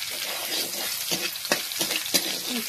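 Greens cook in ghee for a Pahadi saag, giving a loud continuous hiss and sizzle close by, broken by several scraping stirs, with no speech.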